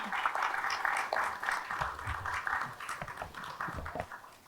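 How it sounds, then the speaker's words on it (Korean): An audience at a Korean policy forum gives a panel a round of applause: a dense, steady patter of clapping from many hands that slowly thins out. "그리고 여기 함께해 주신 패널 여러분께 큰 박수 부탁드리겠습니다."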